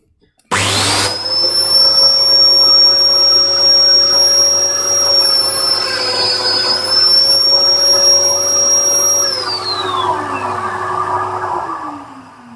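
A Festool Domino joiner starts abruptly and runs at a loud, steady whine, its pitch dipping briefly once, then drops and winds down near the end.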